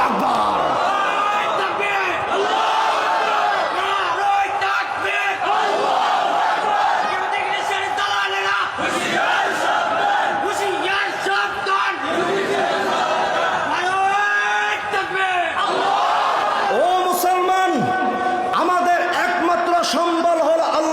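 A large crowd chants the takbir slogan Allahu Akbar at a religious gathering, loud massed voices that rise and fall in repeated waves and keep going without a break.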